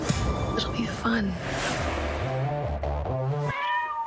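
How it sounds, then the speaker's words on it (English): Several cats meow with rising and falling wailing cries, close and loud, set in the mix of a superhero movie trailer alongside music and other sound. "You got a lot of cats."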